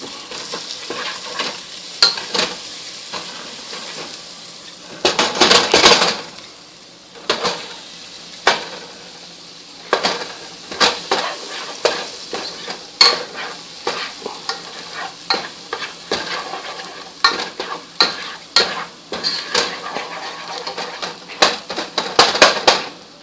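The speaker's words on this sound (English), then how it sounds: "Throw in your butter." Butter sizzles and fries in a hot pan, a steady close hiss broken by frequent scraping stirs and clinks of a utensil against the pan; no voices.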